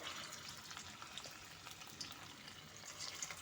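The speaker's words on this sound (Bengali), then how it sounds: "ওই তেলের মধ্যে এখন আমি আলুগুলো মেখে ভেজে নেব" Potatoes fry in hot oil with a faint, steady hiss scattered with small crackles, quiet and continuous throughout.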